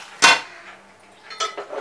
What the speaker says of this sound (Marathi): घावणा मोदक तयार करण्यासाठी आता मी जरा हे दोन्ही भांडी अदलाबदली करते